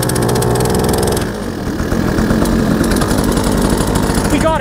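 A cheap small outboard boat motor for a tiny boat or kayak sputters through a start, then settles into a rapid, buzzy running putter, close and loud.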